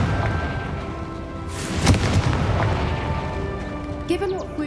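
A Confringo blasting spell explodes in Hogwarts Legacy, a booming burst in the middle of a continuous game soundscape, with a voice calling out and other game sounds around it.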